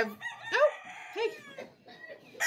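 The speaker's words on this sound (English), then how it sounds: "So Manly doesn't care about the chickens moving around and he doesn't care about the dog." Chickens cluck and squawk nearby in a few scattered, rising calls, with quiet gaps between them.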